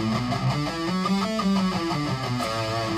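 An electric guitar plays a steady, flowing riff in Dorian mode, sustained notes with one melodic phrase ringing continuously and clearly up close.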